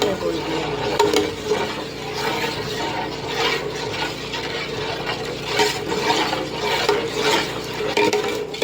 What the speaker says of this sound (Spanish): Debemos de estar revolviendo y revolviendo.